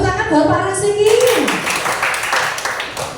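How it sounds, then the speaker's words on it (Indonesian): Applause at a teacher mentoring session, starting under a speaking voice and then filling out into a steady spell of hand clapping from a small group. "Tepuk tangan buat Pak Rasiki"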